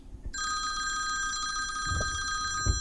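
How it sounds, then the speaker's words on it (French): An old-style telephone bell rings continuously and loudly for over two seconds, a bright metallic trill, with a couple of soft thumps near the end. "le téléphone sonne."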